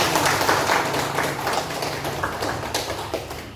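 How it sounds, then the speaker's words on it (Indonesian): Class of students clapping hands together in a classroom lesson, dense rapid clapping from many people close by, loud at first and gradually tapering. "Semuanya tepuk tangan dulu guys"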